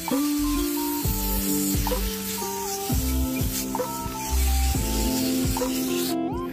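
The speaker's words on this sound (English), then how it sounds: "then I spray the aphids away" Spray bottle misting a neem oil and dish soap solution onto aphids, a continuous hissing spray over music with a steady beat, loud and close.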